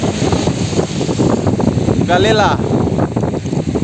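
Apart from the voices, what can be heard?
wind blowing at the beach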